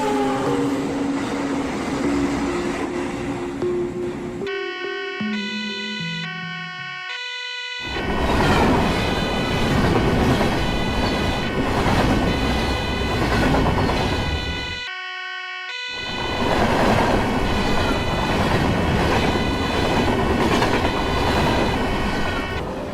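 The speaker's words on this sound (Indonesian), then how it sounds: "lanjut mengendarai lokomotif habis ngopi di stasiun daerah" A locomotive rolls along rails on the final run toward a capital-city station, a loud continuous rumble overlaid with steady tonal whine that breaks off briefly twice into sparser tones.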